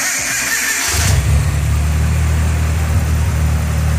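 A Nissan KA24E truck engine swapped into an S13 cranks for about a second, then fires and settles into a loud, steady idle close by.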